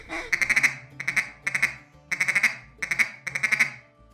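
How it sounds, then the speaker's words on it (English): Flying ducks quack in repeated bursts of three to five rapid, nasal calls, with short pauses between them, clear and moderately loud against a quiet background. "As ducks are flying over, you may hear."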